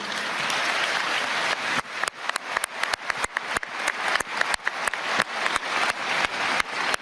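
Applause from a summit audience, starting as a dense sustained wash and then breaking into sparser, louder individual claps for about five seconds.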